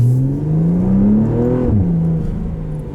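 A 2012 Lotus Evora IPS fitted with the Lotus Sports exhaust revs loud and close, its engine note rising steadily then dropping sharply near the end before settling into a steady drone.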